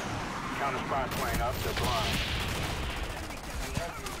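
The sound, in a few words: M16 rifle gunfire in video game Call of Duty Black Ops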